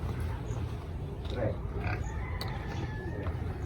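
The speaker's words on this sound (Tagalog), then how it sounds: "May baboy pa sila dito." Pigs grunt in a farm pen alongside newborn piglets, with low, rough snorts scattered through steady background noise while people talk nearby.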